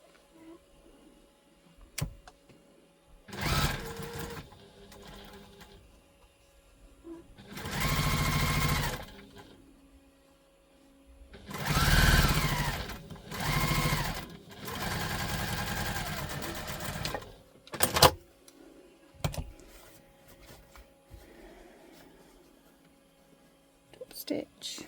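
Sewing machine stitching a tote bag: several short bursts of rapid mechanical whirring, each lasting a second or two and separated by pauses with soft handling noises and a quiet voice.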